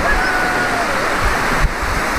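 Rushing water of a mountain river flows steadily nearby, a broad continuous roar like a fast river, with no talking.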